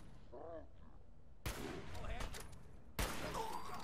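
Two loud gunshots go off in Fallout 4, about a second and a half apart, each a sharp, close blast with a lingering tail, after a brief spoken line.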